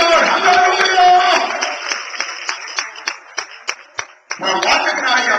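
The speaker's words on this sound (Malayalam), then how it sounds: "കൈയടിച്ച് ദൈവത്തിന് സ്തോത്രം ചെയ്യുക" A church congregation claps in praise: fast, dense clapping that thins into a few sharp spaced claps and then swells again, with voices mixed in.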